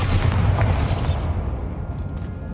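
A Bombarda spell blasts off in Hogwarts Legacy, a deep, booming explosion with heavy low rumble that sustains loudly and then thins out into a fading roar.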